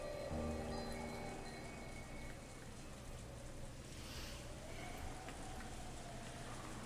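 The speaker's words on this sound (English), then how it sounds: "the sound of the rain sneaking into the dining hall" Steady, soft rain patters continuously in the background, heard from inside a dining hall, a diffuse wash of drops with a faint low hum underneath and no voices.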